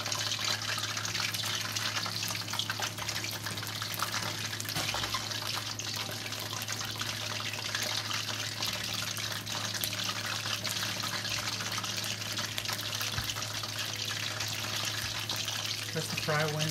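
Chicken strips fry in hot oil with a dense, steady crackling sizzle that runs continuously at moderate level, without pause, under a low background hum.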